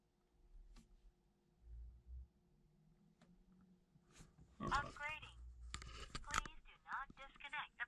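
BlackVue 4K dashcam in a Duramax truck speaking a synthesized voice prompt about a firmware update, heard after low rumbling and clicks, the prompt fairly close and clear inside the quiet cab.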